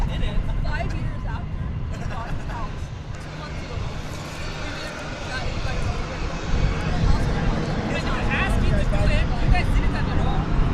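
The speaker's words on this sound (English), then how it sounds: "Flight 2115 from the sun and fun capital of the world. 737-800." Boeing 737-800 airliner at DFW Airport at night, a steady broadband engine roar building slightly louder toward the end, with background voices murmuring throughout.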